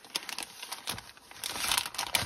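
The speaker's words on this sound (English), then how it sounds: "Let us get it back into the plastic bag." A plastic bag crinkles and rustles in close, uneven bursts as craft supplies are packed back into it, with no talk.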